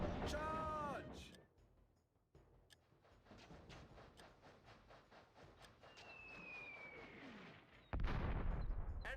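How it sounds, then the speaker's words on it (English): Gunfire and cannon blasts in a Warhammer: Dark Omen battle, scattered sharp shots and rumbling bursts at moderate volume, with a whooshing projectile and a loud blast near the end, alongside in-game voices. "Open fire. We're under fire."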